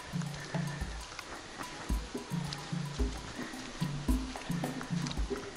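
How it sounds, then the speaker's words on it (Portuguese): Water falls at the Cascata das Furnas in Vila Nova de Milfontes, Portugal, a cascade with several drops. A steady broadband rush runs throughout, with repeated low thumps and tonal bursts layered over it. "Começou a ouvir água a cair do lado direito"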